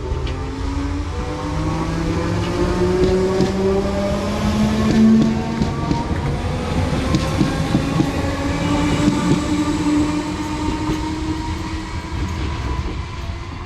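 A Merseyrail Class 508 electric train pulls away from Kirkby toward Liverpool Central. It gives a steady rumble with rising motor whines and rail noise, near and loud, with no voices.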